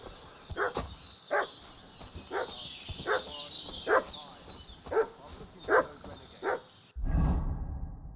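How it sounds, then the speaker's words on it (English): A dog in the game Kingdom Come Deliverance II barks in loud, evenly spaced single woofs, about eight in a row, over a faint outdoor ambience with birdsong, ending in a low rumble. "What's that dog making such a fuss about?"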